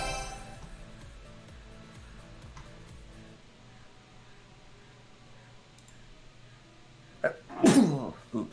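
A single loud sneeze bursts out near the end, close to the microphone, after a stretch of quiet room hum and faint game sounds during a gaming session.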